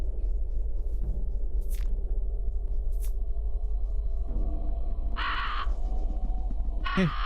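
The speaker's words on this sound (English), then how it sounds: "Okay, crows, we don't need to do that." Crows caw in the horror video game Fear and Hunger 2, several harsh calls scattered over a constant low rumbling ambience, some faint and distant and a couple louder near the end.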